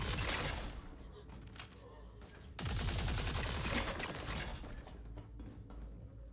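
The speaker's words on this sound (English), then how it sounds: "You can hear the sniper rifle up here as well." Sniper rifle fire in Star Citizen, a cluster of loud sharp shots and a burst of rapid gunfire, close and dense, with a short lull between volleys and quiet voices faintly under the action.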